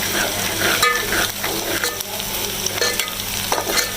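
Onions frying in a pan for a chicken liver (kaleji) dish, a steady close crackling sizzle with stirring scrapes through it and no talk.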